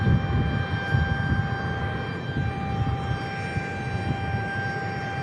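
United airliner at Tucson International Airport, a steady jet engine drone with a sustained high whine, moderately loud and constant throughout, with no talking.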